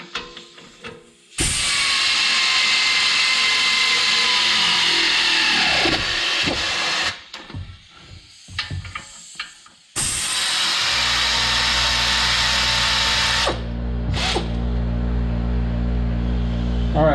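Wheel nuts being snugged onto a loose hub of a 2016 Nissan Rogue with an air ratchet, heard as two long, loud whirring power-tool bursts separated by a short pause and clatter, the second ending with a lower hum.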